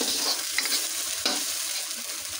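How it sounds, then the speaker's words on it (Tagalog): Canned sardines mashed into a Filipino kilawing papaya dish in a sizzling pan, with soft scraping and stirring strokes over a steady fry, close and moderately loud, no talking. "Ayan, kailangan yung sardinas. Dudurugin po natin yan."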